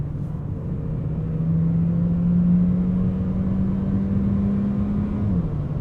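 A Mercedes A200 sedan with a 1.3L engine accelerates hard in Sport Mode, a loud, steady engine drone whose pitch climbs gradually and then drops sharply near the end as it shifts up, heard from inside the car with no talking.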